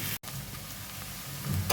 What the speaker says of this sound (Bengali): এটাকে একটু হালকা ব্রাউন করে ভেজে নেব।